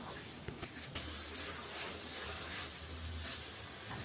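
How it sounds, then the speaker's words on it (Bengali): Diced potatoes and raw fresh peas stir-fried together in a hot pan for a rice pulao, giving a steady, soft sizzle and hiss with a couple of brief scraping clicks near the start. "মটরশুঁটি সহ আলুকে আরও 1 মিনিট কষে নিচ্ছি।"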